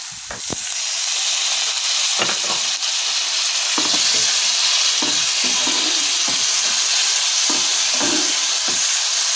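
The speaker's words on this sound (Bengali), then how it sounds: "মশলাটা ভালো করে কষবো যতক্ষণ না মশলাটা থেকে তেল ছাড়ছে" Spice paste frying in a pan over low heat after a splash of hot water is added: a loud, continuous sizzle with the repeated scrape and knock of a spatula stirring underneath, heard close up.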